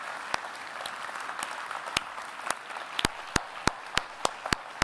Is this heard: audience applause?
yes